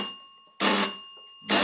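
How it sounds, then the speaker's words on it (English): An electric bell wired to a 12-volt supply rings loudly and close up in two bursts, each about a quarter to a third of a second long, with a brief quiet gap between them. "You can use this bell as well."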